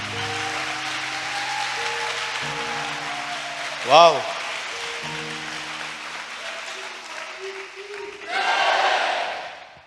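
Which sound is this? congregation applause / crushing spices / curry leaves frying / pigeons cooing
congregation applause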